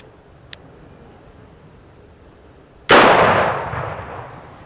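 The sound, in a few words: S&W Governor revolver shot fired single action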